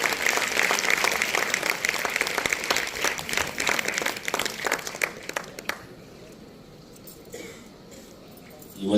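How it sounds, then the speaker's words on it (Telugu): Audience at a Telugu association cultural event applauding loudly in a dense burst of clapping that fades after several seconds into quieter room noise. "అందరూ బలంగా చప్పట్లు కొట్టినట్లయితే"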